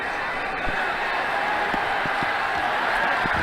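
A stadium crowd in the cricket game Ashes Cricket 2009 roars in a broad, steady wash of cheering, with faint thuds scattered through it and a voice talking underneath.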